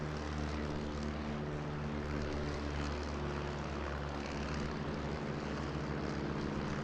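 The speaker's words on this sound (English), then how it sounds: "Beautiful aircraft these." A propeller aerobatic aircraft passes at a seaside airshow, its engine a loud, continuous droning buzz with a steady harmonic hum that holds throughout without voices.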